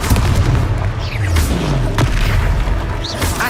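Confringo blasting spell explosions in a Harry Potter video game, deep booming blasts layered with magical whooshes and effects, loud and continuous across the clip.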